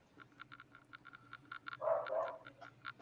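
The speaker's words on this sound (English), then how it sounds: "Dogs are barking." Dogs bark in a quick, repeated series, faint and some distance off, their short yips clustered with a louder burst midway, heard indoors over a low background hum.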